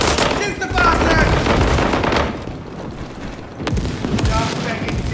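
Gunfire in a video game firefight, with bursts of rapid shots and loud booms throughout, a lull in the middle and then more bursts, dense and close.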